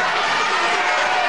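A wrestling crowd cheering and roaring at a bout between Steve Grey and Bobby Barnes, a dense, steady wash of noise that fills the whole brief moment.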